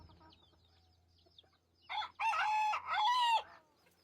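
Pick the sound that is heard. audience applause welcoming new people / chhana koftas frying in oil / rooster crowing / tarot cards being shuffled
rooster crowing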